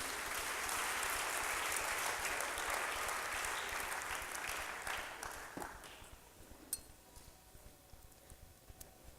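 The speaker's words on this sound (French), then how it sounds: "Pouvons-nous acclamer pour la parole de Dieu?" Church congregation applauding in a broad, dense wash of clapping that gradually thins out and fades to scattered claps near the end.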